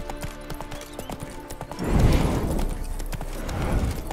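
Horse hooves clip-clop in The Witcher 3: Wild Hunt, steady and fairly close, with a louder rush of movement partway through and no talk over it.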